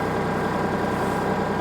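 A tractor engine idles close by with a steady, even low rumble throughout, being fitted with new heavy-duty pallet forks for loading firewood totes; no talking.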